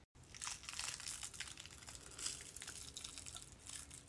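Special effects makeup is peeled off skin up close, giving soft crinkling, sticky tearing and crunchy rustles in a continuous quiet stream with no voices.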